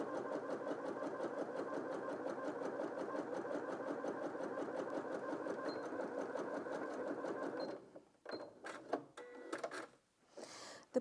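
A Janome M100QDC sewing machine stitching at a fast, steady rhythmic whir for several seconds, then stopping, followed by a few clicks and short mechanical bursts as settings are changed.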